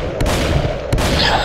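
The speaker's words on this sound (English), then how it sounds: "And an explosion happened for no apparent reason." A sudden explosion in the video game Birdemic: two sharp booming blasts about three-quarters of a second apart, loud and close, with a rumbling tail between them.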